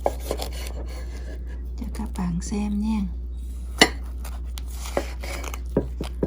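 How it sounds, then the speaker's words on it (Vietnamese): A knife cuts through a freshly baked Vietnamese honeycomb cake (bánh bò nướng) with a few short scraping and tapping strokes against a pan or board, close by, while someone talks. "xắt bánh"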